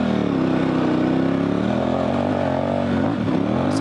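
A dual sport motorcycle on 50/50 tires revs hard in second gear with the throttle pinned through deep sand, its loud, close engine note climbing and then wavering as it bogs.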